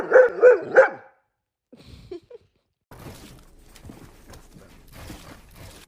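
A dog barks three times in quick, loud succession up close, followed by a few faint yelps and then low rustling background noise.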